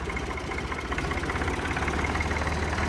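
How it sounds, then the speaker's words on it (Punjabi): An Indo Farm 3511 4x4 tractor engine idles close by, a steady, heavy diesel throb with a fast, even pulsing rhythm that continues without a break. "ਆਵਾਜ਼ ਚੈੱਕ ਕਰੋ ਟਰੈਕਟਰ ਦੀ"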